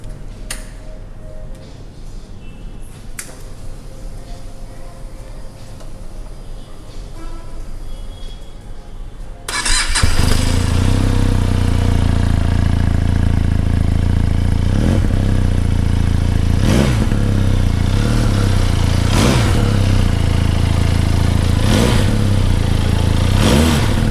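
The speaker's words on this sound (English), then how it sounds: "So let's start the vehicle and hear the exhaust note." A Benelli Urban Cruiser 502c motorcycle is started up after about ten seconds of quiet, then its loud exhaust idles close by with several sharp revving bursts through the rest of the clip.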